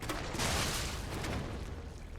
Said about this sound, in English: because the loud explosion didn't end you